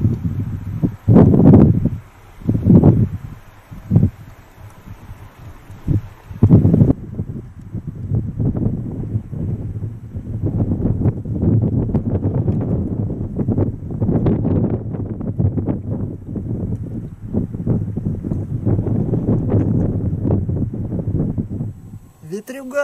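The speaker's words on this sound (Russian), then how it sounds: "Ветрюга, ничего не слышно" Strong wind gusts roar across a snowy mountain pass saddle in the Suntar-Khayata Range, buffeting the microphone loudly and steadily, with someone speaking briefly at the start.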